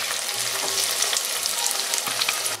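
Onions for chili frying steadily in a pan, a dense continuous sizzle with occasional stirring scrapes, close and fairly loud, with no voices.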